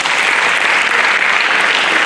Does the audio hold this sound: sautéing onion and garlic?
no